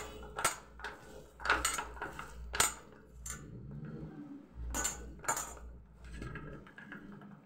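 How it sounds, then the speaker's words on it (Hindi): Masala peanuts tossed by hand in a bowl, giving close, irregular bursts of rattling and clicking as the coated nuts knock against the bowl, with quieter shuffling between. "थोड़ा हम हाथ से भी मिला लेते हैं ताकि पूरे में लग जाए।"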